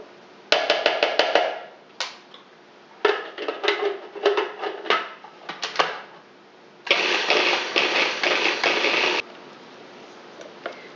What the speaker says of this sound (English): I'm going to add that to my food processor now. I like to really get it finely chopped.